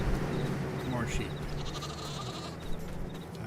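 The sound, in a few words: sheep and lambs bleating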